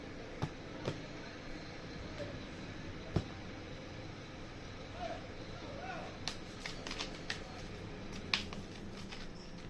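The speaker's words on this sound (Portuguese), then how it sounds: "Deixa eu cortar o baralho." Soft papery shuffles and scattered sharp clicks of a tarot deck being handled and cut, close and quiet, with no talking.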